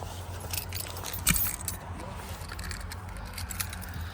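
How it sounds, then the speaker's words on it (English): Car keys jangle inside a 1998 Dodge Ram 1500, a few light metallic clinks with one sharper rattle early on, close and fairly soft, no talk. "We got my keys out."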